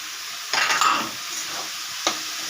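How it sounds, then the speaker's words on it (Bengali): Banana flower is stirred in a pan after being added to a spice base of turmeric and chili powder. Two distinct scraping strokes stand out over a soft, low background, close and alone. "মোচাটাকে দিয়ে ভালো করে নাড়াচাড়া করে নেব"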